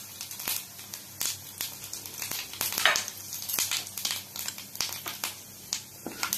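Green chillies and panch phoron splutter in hot mustard oil with irregular sharp pops and crackles over a soft sizzle, loud and close, each burst short.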